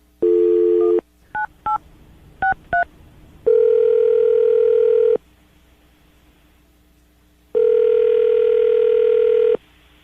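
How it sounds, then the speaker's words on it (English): A steady telephone dial tone, then a quick series of touch-tone beeps, followed by two long ringback tones separated by silence. "I'm going to dial the phone right now"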